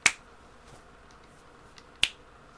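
Two sharp finger snaps ring out about two seconds apart, crisp and close in an otherwise quiet room, with a faint tick between them.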